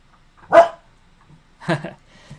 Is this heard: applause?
no